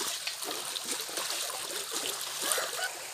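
Water drains steadily through the outlet of a tilapia fishpond after its barrier is removed during harvest, a continuous trickling and splashing rush with no voices.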